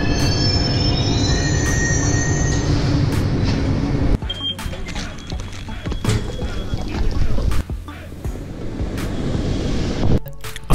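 A Chennai Metro train rolls into AG-DMS station with loud, high-pitched wheel squeals and screeching brakes, then the rumble drops and slows to a halt.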